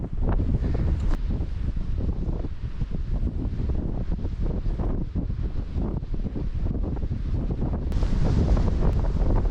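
Strong wind roars steadily across the microphone on a Sierra Nevada mountain hike in Spain, a loud continuous buffeting rush with gusts swelling near the end, no voices.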